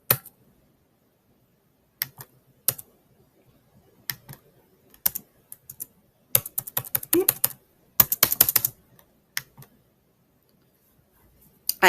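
Someone types a short answer into a digital escape room on a computer keyboard, isolated key taps giving way to quick clusters of clicks and a final keypress, close and crisp with no talking.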